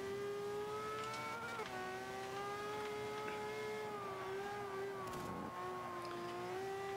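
Racing car engine in Forza 5 holding a steady, loud harmonic drone with slight pitch dips as the car slides, continuous through the whole stretch with no talk.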